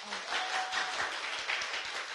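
Applause for a congresswoman during a Korean radio broadcast, a soft, brief patter of clapping heard faintly and at a distance for about two seconds.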